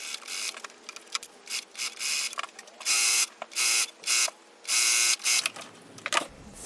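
A sewing machine runs in repeated bursts of rapid stitching through beanbag slipcover fabric pieces sewn with heavyweight upholstery thread. The motor whirs loudly for a second or so at a time, stopping between runs, with no talk.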